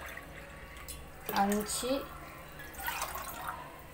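Cups of water are poured into a pot for sambar rice, a short splashing, trickling pour close by, while a voice counts nearby.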